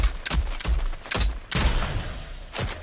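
Gunfire in an online shooter game crackles in a rapid series of sharp, evenly spaced shots, five or six loud cracks in quick succession with no talk over them.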